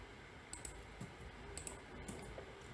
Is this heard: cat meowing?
no